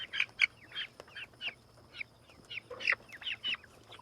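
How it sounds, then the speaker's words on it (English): Chickens on a farm on a hot, humid day give a string of short clucking calls, some louder and closer than others, with no talk over them. "There's a chicken."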